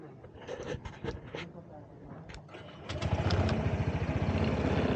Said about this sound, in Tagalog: So start up muna natin para umikot lang yung makina.